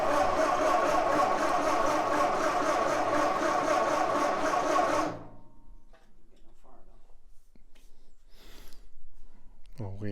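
A 1963 Ford 801 Powermaster tractor engine cranks with a loud, rapid rhythmic chugging for about five seconds, then cuts off abruptly, leaving quiet shuffling and faint clicks.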